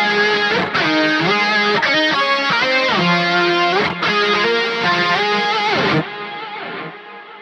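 Distorted electric guitar through a Fractal octave fuzz with gritty, lo-fi bit-crushed tone, playing a sequence of sustained chords and notes, loud and alone, fading into a reverb tail.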